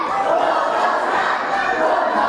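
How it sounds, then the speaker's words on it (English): Crowd at a live wrestling show roaring and chanting in a dense, steady wall of noise that holds for the whole moment with no single voice standing out. "You can hear the crowd here."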